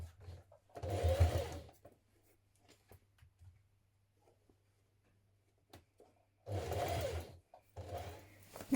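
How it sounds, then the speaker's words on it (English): A sewing machine stitches the facing of McCall's 7831 dungarees in place, with two short, close bursts of rapid stitching separated by a quiet stretch with small handling sounds. "So let's sew that in place now."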